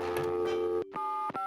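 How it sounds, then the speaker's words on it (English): Synthetic telephone dialing tones sound in a video game, with a sustained tone cut by sharp breaks and then a few shorter pulsed beeps, all clear and close with no talking. "To make a call, pick up the phone."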